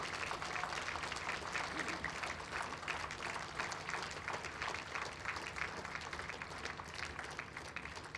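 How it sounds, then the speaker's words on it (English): Applause for the players at the close of a World Indoor Bowls Championship evening session, a quiet, distant crowd clapping steadily in a hall with a faint background hum. "give them a big round of applause"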